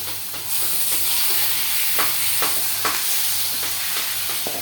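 Shrimp hit a hot pan with spices including turmeric, rising into a loud steady sizzle with periodic stirring scrapes, close and continuous, no voices.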